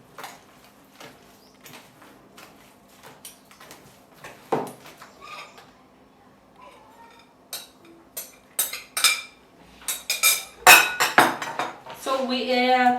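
Flour is stirred into cake batter in a bowl, heard as irregular clinks and scrapes of a utensil against the bowl that grow busier and louder toward the end, with a brief voice sound near the close.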